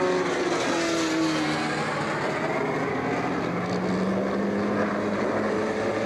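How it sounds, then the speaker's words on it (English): Race cars roar past at Star Speedway during a 1991 short-track event, a steady loud wall of engine noise with rising and falling pitch as cars pass, no voices heard. "There goes the number 3 of Rick Tolios"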